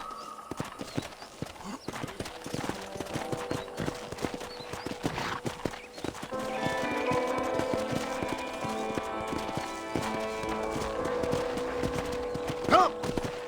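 Rapid horse hoof clip-clops in the video game Red Dead Redemption patter steadily, then a horse whinnies and a brighter musical tone layer joins in, hooves continuing underneath.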